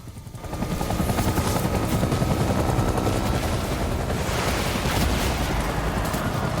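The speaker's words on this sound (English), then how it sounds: "to the chopper!" A helicopter's rotor roars continuously and loudly while scattered gunfire and explosions crackle through it, in a Vietnam War battle scene from the video game Death Stranding.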